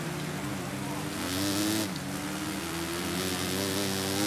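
A motocross bike in the MXGP3 video game holds a steady, buzzing engine note at part throttle with slight rises and dips, with talk running over it.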